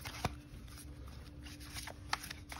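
A deck of tarot cards being shuffled by hand, soft faint riffling and papery patter with a couple of sharper snaps, close and quiet with no talk.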